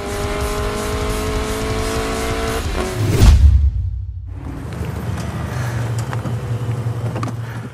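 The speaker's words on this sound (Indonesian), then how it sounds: "walaupun Rudy hanya menggunakan mobil tua, dia bisa mengimbangi Idlan dengan Nissan Silvia S15-nya" In a street race, an old car and a Nissan Silvia S15 roar past with a loud burst of engine noise and tire squeal, followed by a steady engine drone.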